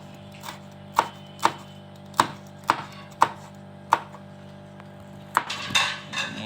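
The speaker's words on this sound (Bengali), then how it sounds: "এটা হলো মরিচ কাটা চলতেছে" Chili peppers are chopped on a board with a knife in a slow, regular series of sharp close thuds, about one every half second, a quicker cluster at the end.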